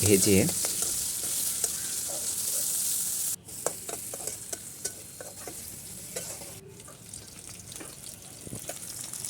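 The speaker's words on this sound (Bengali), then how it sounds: "তেলটা গরম হয়ে আসলে পেঁয়াজ কুচি যেটা করে রেখেছিলাম সেটা ছেড়ে দিব" Chopped onions frying in hot oil in a wok, a close, steady sizzle broken by stirring scrapes and clatter, with a brief cut partway through.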